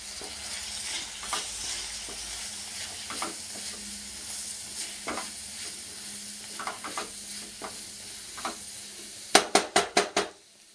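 Green chilli powder and sambar powder frying in hot oil for a tamarind gojju, stirred in a pan: a steady close sizzle with scattered scrapes, then a quick run of loud metallic clinks of the spoon at the end.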